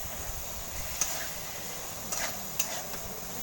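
Ground cumin, coriander and chili powder fry and get stirred in a pan for cauliflower rezala, a steady low sizzle with a few light scrapes and taps of the spoon, close and without talk.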